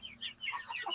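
Free-range village chickens in a small backyard coop behind a house, soft clucking and chirpy calls overlapping steadily at close range, no talking.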